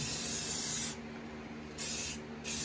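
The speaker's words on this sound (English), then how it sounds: "when you do spray paint, you just want to put on light coats." Spray paint hisses out of a can in light coats onto a wood cookstove being restored, close and loud: one long burst, a pause, then two shorter bursts with a brief gap between them, and no voices.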